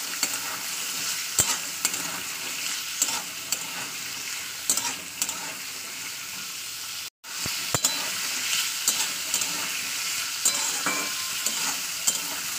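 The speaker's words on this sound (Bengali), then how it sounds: "তো এটাকেও আমি 2-3 মিনিট ফ্রাই করে নেবো।" Boiled beetroot stir-fries in a pan with a continuous close sizzle, broken by occasional scrapes and taps of the spatula and one brief dropout midway.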